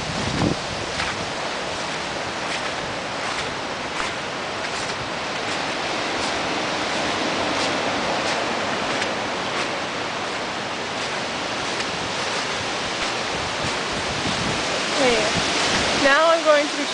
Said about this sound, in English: I have to walk through really deep water